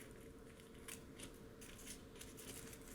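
Scissors snipping through folded paper strips at marked points, a series of short crisp cuts spread over a few seconds against a quiet room background, no talking.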